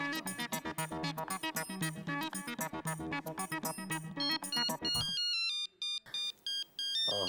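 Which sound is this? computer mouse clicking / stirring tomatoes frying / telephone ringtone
telephone ringtone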